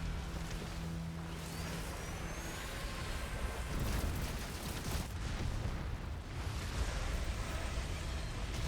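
Heavy worm stake cannons boom in a Monster Hunter battle against Gaismagorm, deep blasts rolling under a dense, loud game soundscape with a rising whistle and rumbling impacts.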